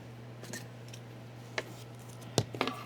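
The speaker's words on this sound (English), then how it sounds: "Okay, and then we're going to just cut our yarn." Scissors snip through crochet yarn during a craft session, giving a few brief, sharp clicks spaced over a couple of seconds against a steady low hum in a quiet room.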